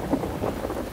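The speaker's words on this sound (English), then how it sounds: "There is a patch in Dimension Pro called Rain and Thunder." Rain and Thunder preset from the Dimension Pro synth in SONAR: a steady wash of heavy rain with a low rolling rumble underneath, continuous and fairly loud for about a second, no voices.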